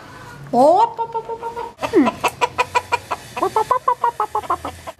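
A hen clucks in a rapid series of short, sharp bursts, fairly close, with a longer squawk at the start.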